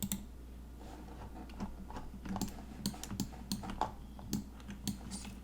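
Someone types steadily on a computer keyboard, close and fairly quiet, an irregular run of sharp key clicks with no talk.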